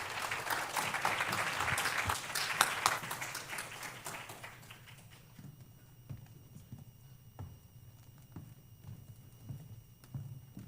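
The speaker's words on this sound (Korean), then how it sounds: "힘찬 박수 부탁드립니다" An audience at a university chemical and biological engineering department presentation claps loudly and steadily, and the applause thins out after several seconds into scattered, faint claps.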